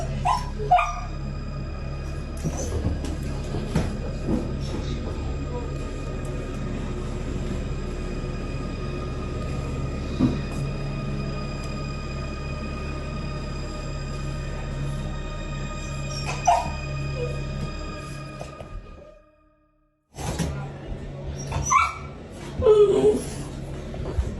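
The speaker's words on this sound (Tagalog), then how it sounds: "Ang kanilang alagang aso ay takot na takot" A frightened pet dog barks and whimpers repeatedly over a steady background hum. The sound cuts out briefly near the end, then resumes with a few more yelps.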